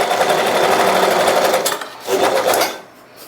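Usha zig zag sewing machine running a normal straight stitch, a close, steady mechanical whir that pauses briefly near the middle before resuming, with no talking.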